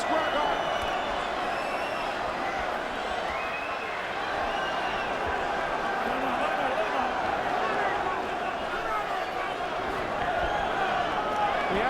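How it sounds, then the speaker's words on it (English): A boxing crowd at Madison Square Garden during the Chris Byrd vs Andrew Golota fight gives off a steady, dense roar of cheering and shouting that holds throughout, with a commentator talking over it. "Listen to the crowd here at Madison Square Garden."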